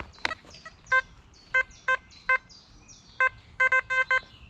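Metal detector signal beeps outdoors, a series of sharp electronic tones in irregular bursts, some in quick clusters, with faint chirps in the background and no talk.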